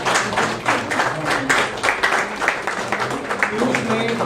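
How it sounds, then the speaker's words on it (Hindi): Energetic audience clapping at a theatre festival honouring the event's videographer, uneven bursts of hand claps close by, with a voice audible under the applause. "एक बार जोरदार तालियां।"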